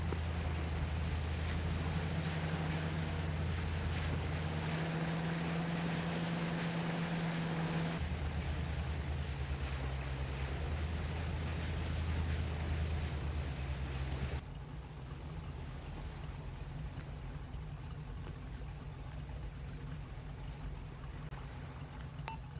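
Boat engines drone steadily on open water during a military strike operation, a constant low rumble with wind and waves, the engine note shifting partway and easing to a quieter hum near the end.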